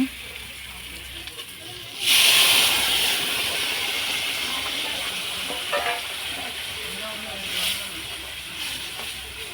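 Spices and dalna curry, with cumin powder, hit hot oil in a pan on a wood-fired clay stove in a Bengal village kitchen, bursting into a loud sudden sizzle that settles into a steady, close frying hiss.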